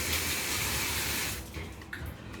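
A kitchen tap runs for hand washing in a steady hiss of flowing water that stops partway through, followed by a few small drips and clinks.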